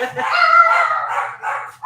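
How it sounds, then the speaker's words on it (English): Dogs bark during a live cruise chat stream, a loud, fairly close, drawn-out yelping burst that dips and returns near the end. "we have a dog barking festival going on"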